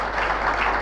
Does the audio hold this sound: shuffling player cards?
no